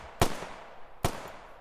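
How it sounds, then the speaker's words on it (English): Two close-up 9mm pistol shots from a sound design preset, each a sharp, loud crack with a short decaying tail, spaced just under a second apart with nothing else around them. "let's go into weapon and let's pick the 9mm pistol"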